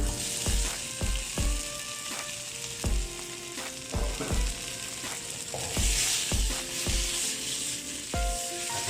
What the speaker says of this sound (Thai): เราเริ่มต้นผัดนะฮะโดยการที่เรา ทำให้กระทะร้อนก่อนนะครับ แล้วก็จะผัดนะฮะ